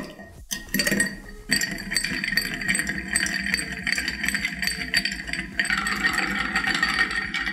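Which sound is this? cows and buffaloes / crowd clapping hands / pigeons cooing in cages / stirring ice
stirring ice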